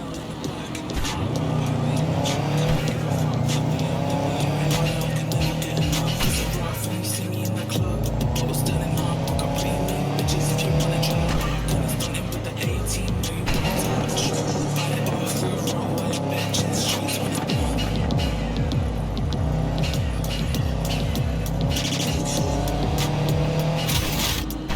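A car engine in Cyberpunk 2077 runs steadily throughout, a loud, continuous hum with shifting revs and occasional road noise, close and sustained.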